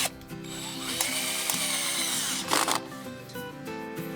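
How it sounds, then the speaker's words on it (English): A power screwdriver drives a screw into a cheap greenhouse frame, a steady close whirring motor that rises and strains with a couple of sharp clicks near the end. "take a screwdriver and drive a screw in there."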